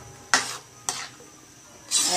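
A spoon scrapes through pasta sauce in a pot in three short, close strokes separated by pauses, each a soft rasping swish.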